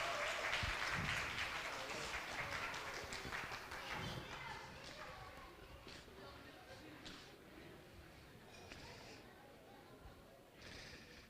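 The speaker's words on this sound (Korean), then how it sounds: "우리 오늘 선곡해 주신 분들께 우리 박수로 축복하고 감사를 표현합니다." A church congregation applauds during a Sunday morning worship service, the clapping loudest at first and then thinning out as a voice talks over it.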